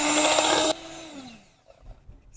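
An electric hand mixer beating eggs whirs loudly and steadily, then drops to a lower whine and spins down to a stop, leaving quiet faint bumps.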